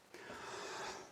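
A single harsh cough from a man during a live chat broadcast, one close, breathy burst lasting about a second.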